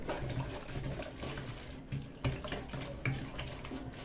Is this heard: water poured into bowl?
yes